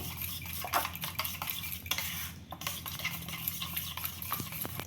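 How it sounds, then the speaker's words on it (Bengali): A fork whisks eggs with chopped onion in a bowl with quick, repeated clinks and tapping against the sides, close up and without talking. "খুব ভালো করে ডিমটা পেঁয়াজের সঙ্গে ফেটিয়ে নেব"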